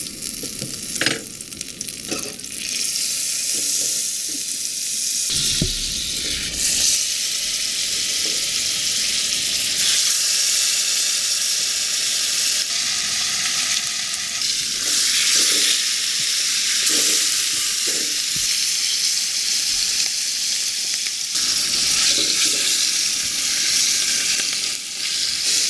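Short ribs browning in a pan of butter and coconut oil, a steady loud sizzle and spit of frying fat running throughout, with occasional clinks and scrapes of stirring, no voices.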